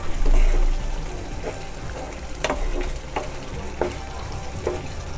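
Steady sizzling and frying of prawns for pepper fry in a hot pan, with occasional soft pops and stirring scrapes, close and continuous.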